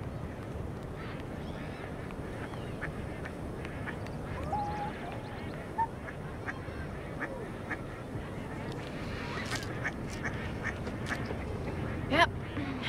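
Ducks quacking intermittently, faint and somewhat distant, over a steady outdoor rumble with scattered clicks and a sharper knock near the end.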